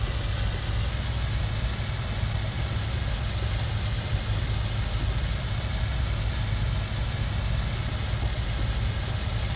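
The engine of a Stuka dive bomber in the IL-2 Cliffs of Dover flight game, a dense, steady droning roar with little audible rise or fall as the throttle changes.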